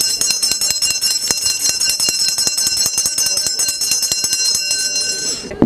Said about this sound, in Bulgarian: Това беше интересна традиция, която възпроизведахме току-що с такъв звънец.